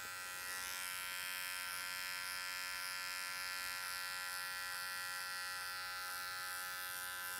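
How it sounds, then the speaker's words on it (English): Electric hair clippers buzz loud and close without a break while cutting a tight fade, holding one steady, even drone with no pauses and no voices. "You just trust that your clipper is creating a nice even cut"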